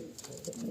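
Madras pigeons cooing softly in a loft, a short, low, rolling coo close by with no talk over it.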